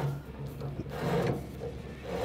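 Jammed auger on a Traeger wood-fired pellet grill being turned backwards, giving a steady scraping, grinding rub of pellets and metal, close and continuous with no talking.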